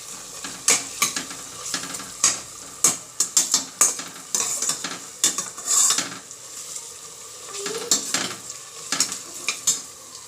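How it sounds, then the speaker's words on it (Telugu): Onions fry in oil over a low flame for a chicken masala curry, a soft sizzle broken by repeated spoon clatters and scrapes against the pan in an uneven rhythm. "సో ఇవి సిమ్లో బాగా లో ఫ్లేమ్లో పెట్టి మూత పెట్టేసి మధ్య మధ్యలో చూసుకుంటూ మనం"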